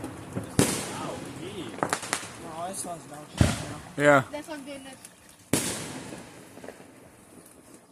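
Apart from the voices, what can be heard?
fireworks and firecrackers exploding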